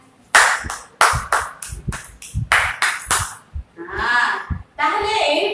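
Sharp, close hand claps in quick irregular bursts, a dozen or so snapping in a row, followed by people, including a child, talking.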